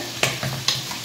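Sautéed cauliflower with parsley and chicken stirred in a pan: a few sharp scraping clicks of the utensil against the pan over a faint sizzle, close by, with no talking.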